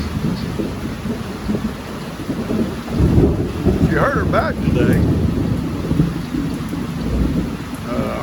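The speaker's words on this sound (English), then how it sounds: "She sat there listening to the storm" Steady heavy rain with rolling thunder rumbling through, while a voice speaks quietly beneath the storm.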